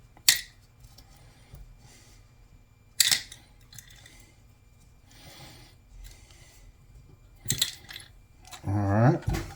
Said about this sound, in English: I'm gonna flip it over and move all these little screws out of the way.